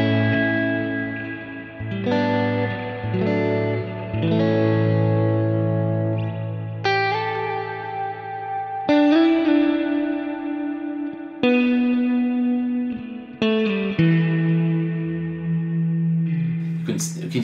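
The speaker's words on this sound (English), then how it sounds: "your delay is repeating the reverb tail" Electric guitar notes ringing through heavy echo and reverb, with delay placed after reverb repeating the reverb tail, each phrase repeating and swirling into a long, continuous wash of sound.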